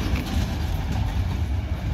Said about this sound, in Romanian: O, sunt lung trenul, 7 vagoane